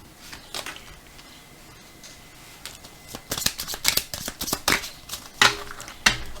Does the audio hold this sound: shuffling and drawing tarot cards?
yes